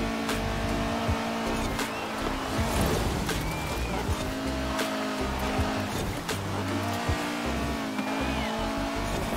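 Honda S2000 drifting around Holyrood Park Circuit in Forza Horizon 4, with a steady engine drone and tire noise running throughout at a constant loud level and no speech.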